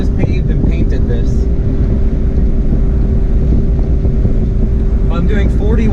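A 1994 Honda Acty kei truck cruising in fifth gear near 40 mph, its small engine droning steadily under constant road and wind rumble, with someone talking over it.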